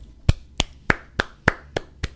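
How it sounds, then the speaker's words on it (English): Seven sharp, evenly spaced hand claps from one person, close and alone, with no talking between them. "can I drop the mic and clap?"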